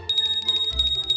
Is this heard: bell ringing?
yes